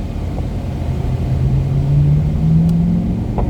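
Chevrolet C8 Corvette accelerating out of a corner on a racetrack, a loud close engine drone rising steadily in pitch under heavy rumbling road and wind noise.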